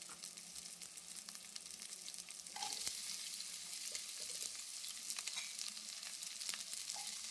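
Oil sizzles softly in a pan during cooking of a carrot chutney, a faint continuous frying hiss that grows a little louder partway through.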